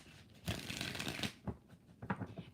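Tarot cards being shuffled by hand, a long riffling burst followed by several shorter flicks and taps of the deck, close and soft with no speech.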